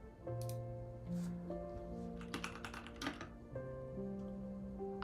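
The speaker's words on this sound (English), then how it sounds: "Typing speed." Typing on a computer keyboard during resume and project work, a steady patter of close key clicks over a continuous background of sustained musical tones.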